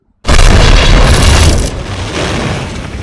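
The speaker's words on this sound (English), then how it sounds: "that was a realistic explosion without all that CGI fire" A sudden, loud practical (non-CGI) film explosion bursts in with a deep rumbling roar that stays heavy for over a second, then settles into a lingering crackling rumble.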